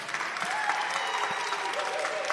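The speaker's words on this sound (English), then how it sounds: "You give Governor Pritzker a round of applause" Steady applause from a conference audience for the governor of Illinois at the Rainbow PUSH annual conference, a dense continuous patter of many hands at moderate level, no speech over it.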